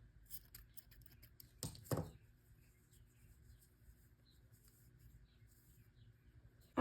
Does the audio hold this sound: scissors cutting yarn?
yes